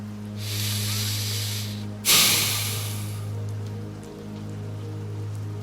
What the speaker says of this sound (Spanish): Simplemente observó la lluvia